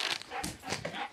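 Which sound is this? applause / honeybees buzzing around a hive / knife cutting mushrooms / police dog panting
police dog panting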